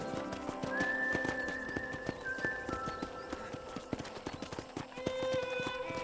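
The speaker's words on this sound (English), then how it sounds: "let's see if you can still ride a horse" Horse hooves clip-clop steadily while riding in the Western video game Red Dead Redemption, a quick rhythmic beat up close with a few whinnies and whistled tones layered over it.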